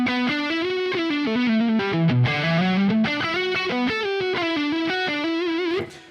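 A distorted electric guitar through a Neural DSP Quad Cortex amp modeler preset plays a melodic lead line with sustained, overdriven notes and a chorus-like shimmer, then cuts off near the end.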